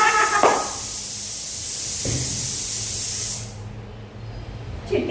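A pressure cooker whistle releases steam as a loud, steady high hiss that runs for about three and a half seconds, then cuts off abruptly, leaving quiet room noise with a few faint knocks.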